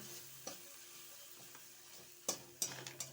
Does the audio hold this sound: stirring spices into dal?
yes